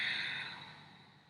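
A single long breath out during a yoga class, a soft airy exhale close to the mic that fades gradually over about a second.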